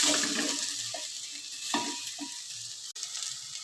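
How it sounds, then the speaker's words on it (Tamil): Eggplant and small shallots fry in hot oil in a pan, a loud, constant crackling sizzle with a few stirring knocks and scrapes against the pan, close up and with no voices. "கத்திரிக்காய், சின்ன வெங்காயம் எல்லாமே நல்லா வேகணுங்க."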